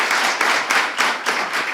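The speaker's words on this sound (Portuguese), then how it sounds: "peço para a plateia aqui uma salva de palmas para todos os ouvintes do podcast Segredos Financeiros no Brasil" A live studio audience at the recording of a Brazilian finance podcast's 100th episode claps steadily, a dense and fairly close burst of applause with slight swells and no talking over it.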